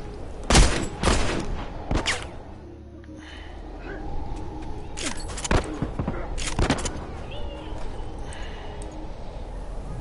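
Gunfire in The Last of Us multiplayer video game: a few loud, sharp shots near the start, then several more spaced cracks over a quieter rumbling background.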